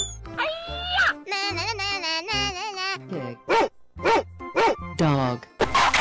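Dog barking and yipping in a video game animal battle, a string of high, bouncy barks and whines in irregular bursts, close and fairly loud.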